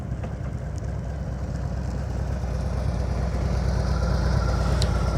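A motorcycle engine runs steadily during slow-speed riding practice, a continuous low rumbling drone that grows slightly louder toward the end, with no talk.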